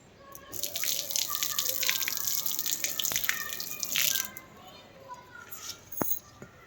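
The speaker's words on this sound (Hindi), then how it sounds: "मैं तो पौधों में पानी देने लगी" Water splashes and trickles as it is poured onto potted plants on a rooftop, a fairly close wash of pouring with drips and small bursts, while children and voices sound faintly in the background.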